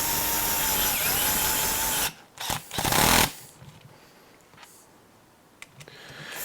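Screws being driven into HPI Baja 5SC model parts with a power driver, a loud whirring burst for two seconds, then short buzzing runs and small clicks, fading to quiet.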